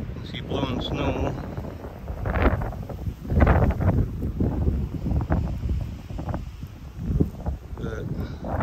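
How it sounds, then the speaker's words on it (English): Strong blizzard wind buffets the microphone outdoors beside a cleared driveway, a continuous heavy roar with gusting swells lasting the whole stretch, loud and close. "the wind is kicking up good over that way. You can see blowing snow."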